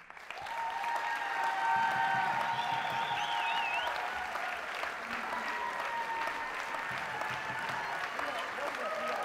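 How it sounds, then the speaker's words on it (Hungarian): Theatre audience at a dance company's anniversary show at Shaw Theatre London applauding the dancers, sustained clapping from a large crowd with a voice speaking over it early on. "A great applause to the advanced group of HUNIC and their advanced teachers and choreographers, Ágnes Bartók, Anita Vidák and Vilmos Katázi"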